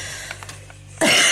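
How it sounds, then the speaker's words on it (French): After a quiet moment, a single sudden, harsh cough bursts out close to the microphone. "la preuve en direct, je tousse"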